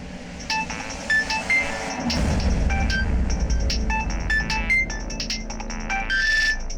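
A phone ringtone plays a bright electronic melody of quick repeating tones, fairly close, over a low background hum.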